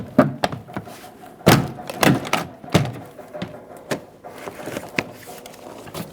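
The rear door panel of a 2007-2011 Toyota Camry lifts off, giving a series of close plastic thunks, clicks and rattles in irregular bursts with no talking.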